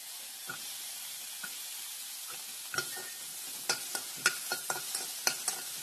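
Freshly grated coconut roasting in a hot kadhai with the gas switched off. A quiet, faint sizzle runs under sharper scraping stirs that grow more frequent toward the end.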